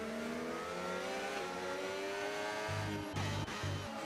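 Formula 1 cars racing at Spa-Francorchamps in the F1 25 game, a loud, steady engine howl with rising and falling pitch, a sharp low rumble and brief tire scrub near the end.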